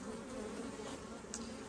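Bees hum steadily over a beehive frame holding drone and regular brood, a faint, even drone close by with no talk over it.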